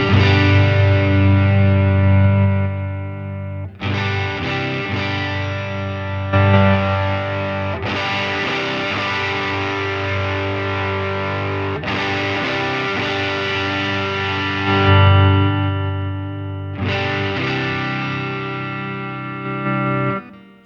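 Electric guitar runs through a Line 6 Helix Stadium XL preset that morphs between five amp settings while playing, giving a loud, distorted, sustained tone with effects and chord changes every few seconds across the whole stretch.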